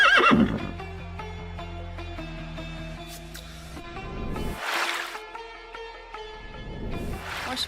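A rain-soaked horse gives a loud, close whinny at the start, followed by stable noises and faint splashing and clip-clop sounds before a second burst of activity.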